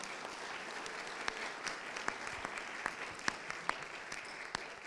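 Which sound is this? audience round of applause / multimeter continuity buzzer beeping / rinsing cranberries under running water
audience round of applause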